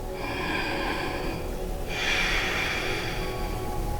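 Deep yoga breaths during a flow sequence, a long steady exhale followed by a stronger rushing breath over a constant background hum, close and unhurried.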